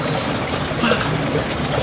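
Steady broadband rush of falling water at Abuab Falls, a tall waterfall, continuous and fairly loud, with no distinct breaks.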